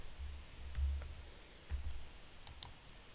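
Mouse clicks while working in the SolFlare crypto wallet app for staking Solana: a few soft, close clicks spaced over a few seconds, a quick pair near the end, over a faint low hum with no talking.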